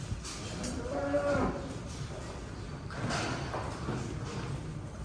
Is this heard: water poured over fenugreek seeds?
no